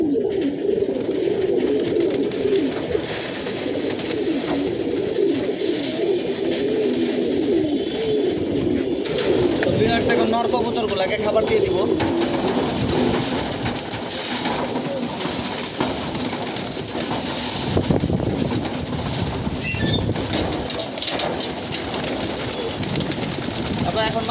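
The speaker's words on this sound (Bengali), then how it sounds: "যে খাবার দিয়ে দিব এখন কবুতরগুলাকে" Pigeons, including males, females and young birds, coo steadily at feeding time in a cramped loft, a continuous soft murmur of calls with faint rustling and a low background hum, no talk over it.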